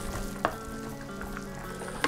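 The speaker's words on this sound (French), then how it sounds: "On va déglacer la casserole avec ce qui nous reste." A pan of chicken sizzles steadily as it is deglazed with the remaining liquid, a soft continuous crackle and hiss broken by a couple of brief clinks from stirring.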